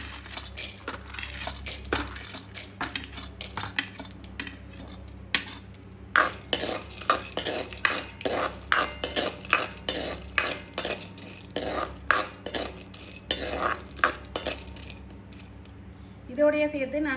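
Roasted peanuts tumble into hot ghee and get stirred for a semolina ladoo, giving a run of close, irregular scraping and clinking spoon strokes against the pan with brief pauses between them.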